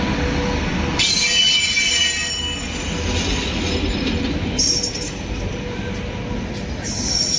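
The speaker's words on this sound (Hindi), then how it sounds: "जिस ट्रेन से उतरा हूँ ये जा रही है नई दिल्ली रेलवे स्टेशन की ओर।" A train pulls away from Sabzi Mandi station toward New Delhi railway station on a cold, foggy day, its wheels squealing loudly on the rails in long sustained screeches close by, with continuous rolling rumble underneath.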